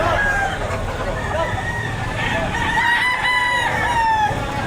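A rooster crows at a busy chicken market in Batangas, its harmonic call rising and stretching over a steady crowd murmur, with people talking nearby throughout.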